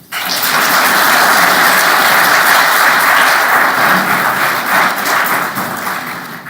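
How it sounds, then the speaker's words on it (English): A crowd at a county plan commission meeting breaks into loud, steady applause. The dense clapping holds for about six seconds before it begins to thin out. "if y'all can hold your applause"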